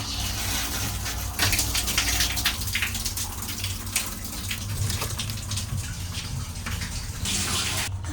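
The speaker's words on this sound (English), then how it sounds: "Never have I ever taken a shower on a train" A shower runs aboard an Amtrak long-distance train, a steady close spray of water with a low rumble of the moving train underneath, shifting briefly in intensity near the end.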